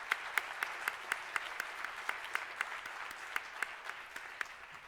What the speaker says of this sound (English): So an applause to them.